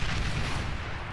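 Mortar bots fire in Beyond All Reason, a dense rumbling barrage of overlapping low thuds.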